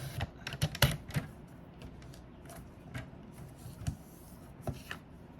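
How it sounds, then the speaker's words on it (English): Paper envelope being cut to make a treat pouch, heard as a run of sharp, irregular clicks and snips close by, with a few louder cuts near the start and more scattered ones later, no talking. "And then I'm going to go ahead and cut."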